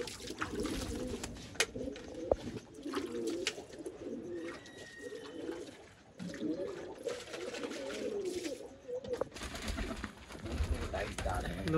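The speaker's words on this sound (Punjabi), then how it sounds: "ਲੋ ਯਾਰ ਦੇਖੋ ਜੀ ਡਾਈਟ ਪਾਤੀ ਆ ਕਬੂਤਰਾਂ ਨੂੰ" Pigeons coo softly in a low, rolling rhythm, with a few wing flutters and faint background noise, while birds gather near scattered feed of rice, lentils and mustard seed.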